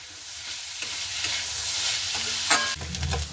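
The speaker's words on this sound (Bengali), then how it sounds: "আলু আর ডোমরটাকে একটু ভালো করে কষিয়ে নিতে হবে।" Fried potatoes and figs are sautéed in oil in a pan, giving a steady, close sizzle with stirring scrapes, growing louder toward the end with a sharp clatter.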